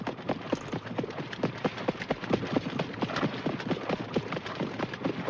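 Horse hooves clip-clop in a quick, steady rhythm on hard ground, close and distinct, continuing throughout with no talking.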